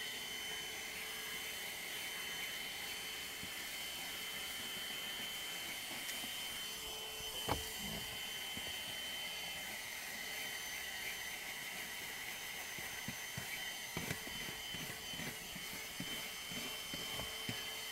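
An Agaro handheld car vacuum cleaner runs with a steady, high motor whine that stays constant throughout, broken only by a few faint bumps and clicks.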